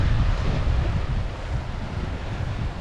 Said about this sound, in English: So here is the ocean side with a typical Maine rocky beach